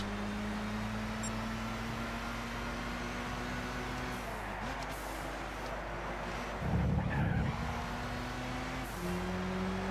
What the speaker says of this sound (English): We got the drift.